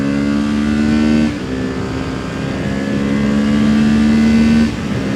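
Ford Fiesta race car on the Nürburgring accelerates with a loud, steady engine drone that rises in pitch, breaks at a gear change, then climbs again, close and without talk.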